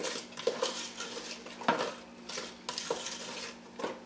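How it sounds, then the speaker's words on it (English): A spoon stirs a mixture of apple pieces and cake batter into melted marshmallows in a pot, making soft scraping and clinking sounds at an irregular pace. It is fairly quiet, with a faint background hum. "we're just going to stir that in until combined"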